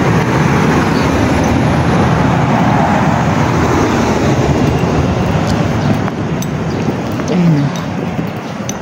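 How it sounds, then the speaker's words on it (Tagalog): Steady roar of busy road traffic in Baguio, a continuous dense rumble of passing vehicles, loud and close, with a voice briefly audible over it. "Medyo dumadami na yung mga sasakyan."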